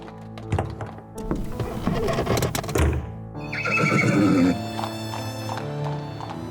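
A horse-drawn wagon rolls to a halt with heavy wooden thunks and hoof clatter, then the horse gives a loud, close whinny before the scene settles.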